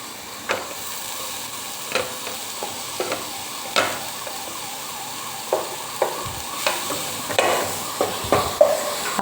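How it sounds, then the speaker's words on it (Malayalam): Cabbage stirred and roasting in a pot while making soup, with repeated scraping stir strokes and a steady sizzle underneath, close and moderately loud, no voices. "അപ്പോൾ ആ കാബേജും കൂടി നമ്മളൊന്ന് ഇട്ട് ഒന്ന് റോസ്റ്റ് ചെയ്തെടുക്കാം."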